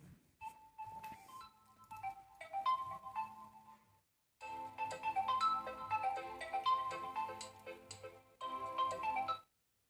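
A mobile phone ringtone goes off during a class. A bright melodic tune rings out in two bursts separated by a short silent gap, loud and close, with no talking over it.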